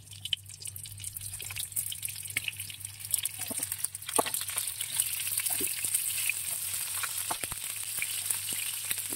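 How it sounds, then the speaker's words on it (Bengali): Pointed gourd pieces fry in hot oil in a pan, a continuous crackling sizzle with scattered pops and drips that grows slightly fuller as more pieces go in. "তেলটা গরম হয়ে গেছে, এক এক করে পটলগুলো সব দিয়ে দিই।"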